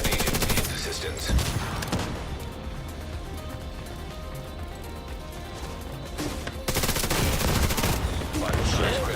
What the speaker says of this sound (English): Was everybody getting hit by that sniper or something?